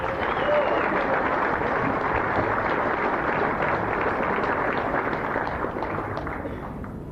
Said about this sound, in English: What about a big round of applause for Ward?